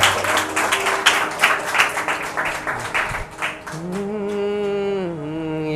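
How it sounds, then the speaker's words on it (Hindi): A church congregation claps loudly and rapidly together for about three seconds, then the applause fades as a sustained sung or chanted voice takes over. "ताली बजाएंगे जोर से"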